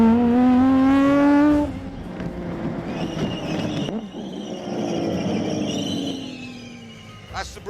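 High, thin squeals from the squeaky brakes of an Aston Martin Vulcan track car run intermittently over the middle seconds, after a loud, rising engine drone opens the clip.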